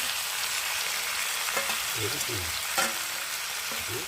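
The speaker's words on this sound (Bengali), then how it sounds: "আর এখন মাংসটাকে কষাবে" Chicken sautéing in a pan over a wood fire, a steady close sizzle with scraping stirs and a few utensil clinks.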